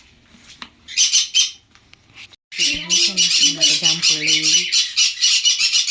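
Pet birds in an enclosure squawk loudly and harshly in rapid bursts, close by and nearly continuous in the second half, with a person briefly speaking among the calls.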